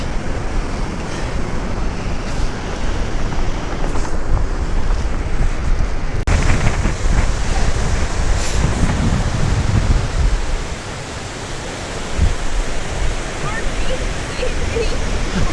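Strong autumn wind roars across the microphone in a steady broadband rush on the Geneva shoreline, with surf-like wash beneath, easing briefly before picking back up.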